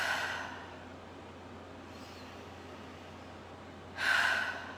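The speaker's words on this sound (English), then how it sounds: "a couple of nice deep breaths." Two slow, deep breaths during a calm guided meditation, a soft inhale at the start and another audible breath near the end, separated by quiet room hiss.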